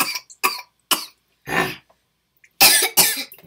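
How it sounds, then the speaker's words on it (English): Several sharp coughs come after tasting a spicy keto snack, bursting out one after another in close, loud fits with short gaps between them and a final doubled cough. "Makes me cough."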